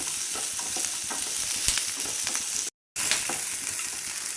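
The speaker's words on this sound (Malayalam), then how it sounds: "ഒരു 3 പച്ചമുളക് നന്നായിട്ടൊന്ന് വഴറ്റി കൊടുക്കും" Three green chilies sautéing in a hot pan while being stirred, a continuous bright sizzle with scattered scraping clicks of the spoon, close and fairly loud, cut by one brief gap near the end.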